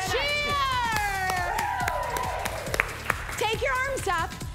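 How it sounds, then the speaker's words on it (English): A crowd at an intenSati fitness class cheers loudly and close by, with whoops, high shouts and rising yells that overlap into a lively burst of excitement. "Cheer!"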